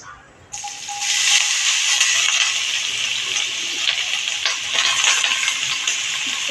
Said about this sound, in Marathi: आणि हे गाजर आता मी तुपावर छानपैकी परतून घेणार आहे